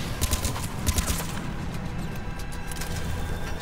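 Rapid, quiet bursts of automatic gunfire from a hard-recoiling weapon in Mass Effect 3 Legendary Edition on Xbox Series X, crackling continuously in the background.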